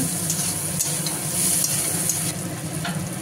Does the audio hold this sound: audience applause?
no